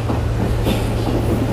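A passenger train in GTA 5 rolling along the track, a loud continuous low rumble with rhythmic clatter throughout.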